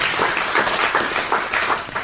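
A small audience at the launch of a literary magazine's fourth issue in 2011 applauds together, a dense, even wash of clapping that carries on without a break for the whole stretch.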